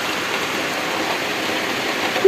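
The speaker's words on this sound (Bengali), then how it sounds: "দেখেন কি বৃষ্টি" Heavy midday rain pours down steadily as a broad, even wash of noise, close and continuous, with a brief voice sound at the very end.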